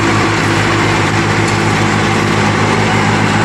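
Mini 4WD tractor, a Swaraj Target 630 or Massey Ferguson 6028, running a rotavator in a field, its engine a steady close droning hum with no break and no voices.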